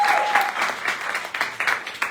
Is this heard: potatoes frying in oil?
no